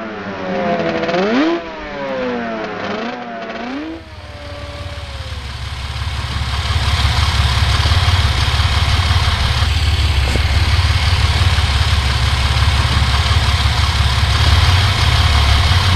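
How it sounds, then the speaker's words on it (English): A car engine cranks and catches, then settles into a steady, loud idle for over ten seconds after the start, heard close up during a hydrocarbon cooling-system test; a voice speaks just before the start. "I'm going to fire the car up and we're going to run this test."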